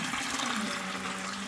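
Water gushes steadily into a farm tank that feeds a homemade sink, a loud, continuous rushing and splashing close by.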